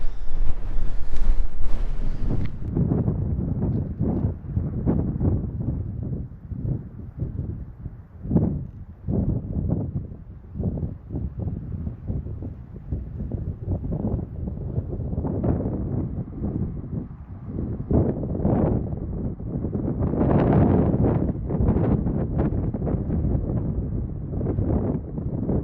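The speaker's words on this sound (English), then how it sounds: "Wind is so strong, it's pushing me sideways." Strong wind buffeting a microphone while bikepacking along a fence line, rough gusty roaring in uneven bursts, loud and close, with no voices.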